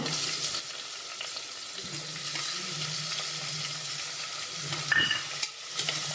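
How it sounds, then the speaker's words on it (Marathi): Green chillies fry in a pan as a tomato goes in; a steady, close sizzle hisses throughout, with faint scrapes and small clatters of stirring on top and no voices. "हिरवी मिरची भाजून झाल्यानंतर आपण आता त्याच्यामध्ये टाकूया एक टॉमॅटो"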